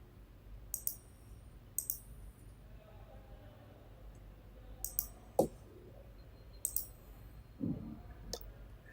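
Scattered computer mouse clicks, single and in quick pairs, land sharply but faintly against a quiet room.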